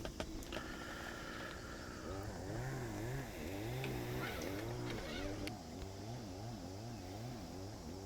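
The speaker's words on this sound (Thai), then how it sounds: "ข้างหน้าเสียง เลื่อยยนนะครับ ที่แรกนึกว่า ตัดหญ้าครับ ที่ไหนได้ครับเป็นเสียงเลื่อยไม้ครับ" A chainsaw cuts wood from some distance along the shore of a reservoir, its engine whining in a steady pitch that rises and falls in a wavering rhythm under low background ambience.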